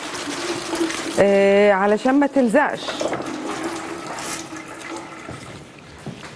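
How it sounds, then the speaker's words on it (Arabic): Water pours into crumpled butter paper to soak it, a loud gurgling stream lasting a couple of seconds before easing to dribbles and trickles, with someone talking over and after it. "هنجيب ورقه زبده اهي هنكرمشها كده نغرقها ميه."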